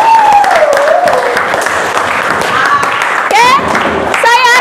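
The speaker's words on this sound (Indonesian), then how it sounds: "Tepuk tangan buat kita semua yang hebat." Loud applause from a group in a classroom lesson fills the clip, with shouts and cheering voices rising over the clapping.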